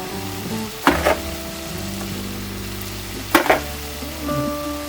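Sugar stirred into hot, sizzling ghee in a pan gives a steady close-up frying hiss, broken by two sharp scraping bursts from the stirring spoon.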